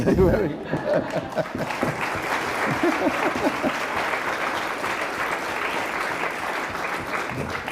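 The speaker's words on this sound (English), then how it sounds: "A round of applause for the season" An audience at an opera company's season launch event breaks into sustained applause, a broad wash of clapping that begins alongside brief talk and a few chuckles, then settles into a steady, even roar.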